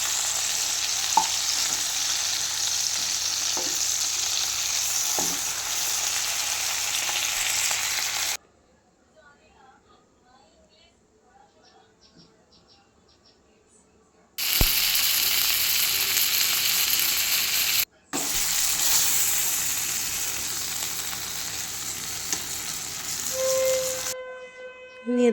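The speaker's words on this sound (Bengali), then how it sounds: "দেখো চিংড়ি মাছগুলো হালকা ভাজা হয়ে গেছে, বেশি ভাজবো না" Shrimp fry in a pan with a steady, loud sizzle and hiss, broken by a quiet gap in the middle and a brief dropout before the frying resumes; faint voices sit beneath the crackle.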